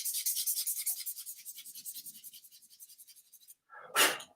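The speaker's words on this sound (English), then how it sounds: "I'm going to sand the very bottom end of the reed." A reed's bottom end is hand-sanded in a quick run of rhythmic rasping strokes that gradually soften, followed by a brief pause and one harsher, louder scrape.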